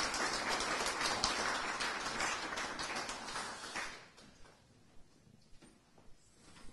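Applause from a municipal council gathering in Maromme, broad and steady for about four seconds, then tapering off into a few scattered claps and quiet room sounds.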